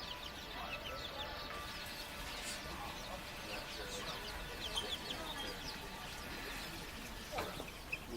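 Baby chicks chirp and peep in a busy store setting, a constant scatter of high cheeps over steady background noise, with faint people talking nearby.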